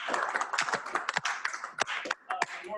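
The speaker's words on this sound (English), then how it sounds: "everyone applaud for Jason" A small group of people at a coding meetup clap for a prize winner, the claps sparse and uneven, a few sharp slaps standing out over a brief, thin patter.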